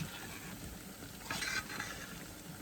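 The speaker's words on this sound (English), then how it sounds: "about 1/4 of a cup of batter into the hot oil, and you try and spread that as flat as you can" Apple fritter batter fries in hot oil with a quiet, steady sizzle that swells briefly into a brighter crackling burst partway through, with no talking.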